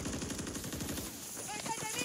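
Automatic rapid gunfire from dual TYR weapons in Warzone, a fast burst of shots rattling loudly in the first second, then fading under game sounds and a voice talking.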